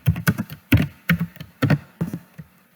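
Bursts of computer keyboard typing, several quick clustered keystrokes in uneven groups with short pauses, close and clear, no voices.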